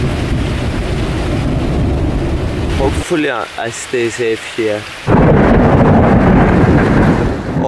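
Heavy rain and rumbling thunder roar continuously, broken briefly by someone speaking before the loud storm noise surges back.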